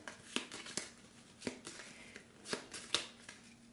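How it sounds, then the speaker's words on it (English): Cards riffled and shuffled several times, crisp papery bursts spaced out over a quiet background, close by. "Okay, we'll shuffle these. With location decks, you always shuffle before you draw."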